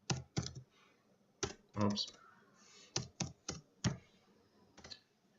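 Keystrokes on a computer keyboard typing a word into a software search field, a handful of sharp clicks in quick uneven bursts with pauses, close and clear, while someone speaks over part of it.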